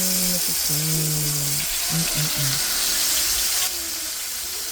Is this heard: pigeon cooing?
no